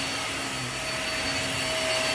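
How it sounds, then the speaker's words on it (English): A powerful vacuum cleaner drones continuously at close range while deep cleaning carpet and pulling up fuzz and pet hair, a loud, steady, broadband roar with no speech. "It has so much airflow and suction power. It's just an incredible vacuum."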